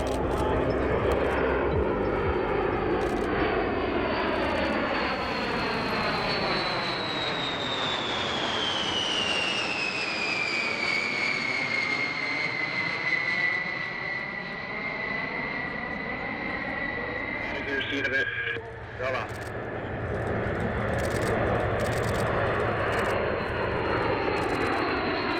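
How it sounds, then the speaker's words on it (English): A US Air Force B-52H Stratofortress bomber makes a loud flypast at an air show, a steady roar of jet engines with a falling pitch sweep as it passes close overhead and continues rumbling away. "first up is United States Air Force B-52H Stratofortress"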